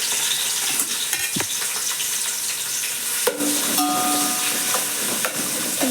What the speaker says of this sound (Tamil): ஒரு 4 வெங்காயம், 2 பச்சை மிளகா அரிஞ்சு வச்சுருக்கேன். 2லேருந்து 3 அதையும் போட்டு தாளிச்சிக்கலாம்.